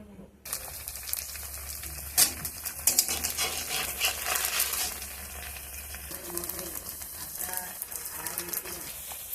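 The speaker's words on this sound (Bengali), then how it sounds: "এখানে তেল গরম বসিয়ে দিলাম, ছানার কোপ্তাগুলি ভেজে তুলে নেব।" Chhana (paneer) koftas bound with flour, salt and pepper fry in hot oil, a steady broadband sizzle running throughout with occasional sharper pops and crackles, close and fairly loud, no talking.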